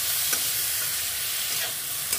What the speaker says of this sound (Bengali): দিয়ে দেব ধুয়ে রাখা পটলের আর আলুর খোসাটা। এবার এটাকে সুন্দর করে আমি ভেজে নেব।